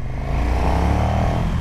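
A KTM 1290 Super Duke R motorcycle with the big LC8 engine revs loud and close, a continuous throaty roar rising in pitch with some mechanical rattle.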